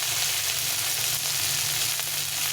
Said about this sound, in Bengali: টমেটোটা একটু ভেজে নিই